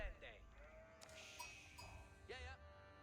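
Sheep bleating in the Age of Empires IV strategy game: a few short wavering bleats, close and clear, with brief game interface clicks between them.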